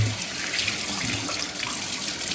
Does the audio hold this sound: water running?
yes